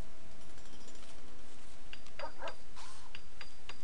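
A dog in the Rimworld video game gives a few short, high yips and barks in a quick cluster partway through, standing out over a quiet background hiss.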